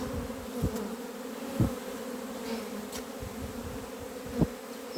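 Constant low buzzing of many young honeybees, a dense hum with a few louder knocks and bumps scattered through it, during an abnormally cold spring.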